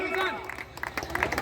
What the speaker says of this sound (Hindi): मुख्य अतिथि राजवल्लभ प्रसाद यादव जी के द्वारा जोरदार तालियां